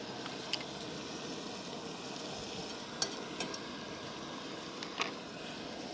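A spoon works tomato paste into browning meat in a pot at a lakeside base camp, giving a faint, steady sizzle under scattered soft scrapes and knocks, with no one speaking.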